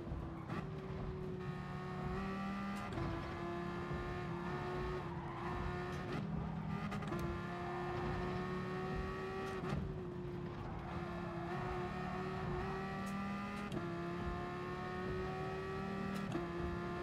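A car in Gran Turismo Sport on PS4 spins its rear tires through burnouts, a steady, loud engine drone with squealing tires running continuously and unbroken, no voices over it.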